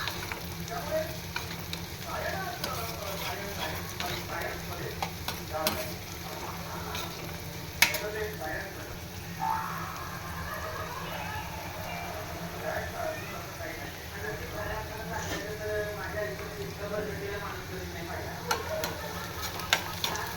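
Mixed vegetables including carrot and capsicum stir-fried over a high gas flame: a constant loud sizzle with repeated scraping and tossing strokes, under intermittent talking.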